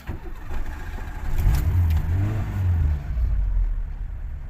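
A Volkswagen Golf running on gas starts up and settles into a low, steady idle rumble, close by, with a slight rise in revs partway through and no talking.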